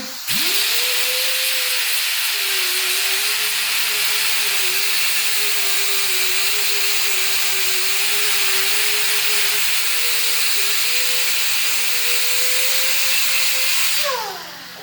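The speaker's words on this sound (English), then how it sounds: "So I'm gonna go ahead and get some grinding done." A loud, continuous abrasive roar of a power grinder on metal welds, with a steady whine running throughout, then cutting off at the end.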